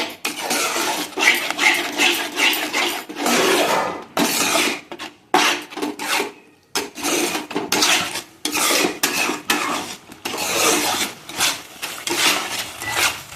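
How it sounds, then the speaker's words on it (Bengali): Yogurt being stirred into fish chaap in a pan: a spoon scrapes and clatters against the metal in busy, repeated strokes with brief pauses between bursts. "দইটা দিয়ে বন্ধুরা ভালো করে কিন্তু নাড়াচাড়া দিয়ে দিতে হবে"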